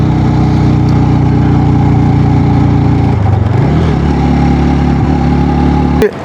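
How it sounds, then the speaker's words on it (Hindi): Motorbike engine pulling steadily in second gear up a steep mountain road toward Naltar Valley near Gilgit, a loud continuous drone with a brief dip in pitch midway before recovering, then cutting off at the end. "बाकी दूसरे गियर में बाइक जो है बड़े आराम से जा रहा है"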